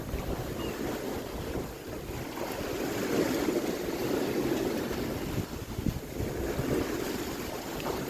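A sailboat motor-sails across the open sea under engine power, with a steady wash of wind and waves rushing around it and gusts buffeting the microphone at a moderate, even level.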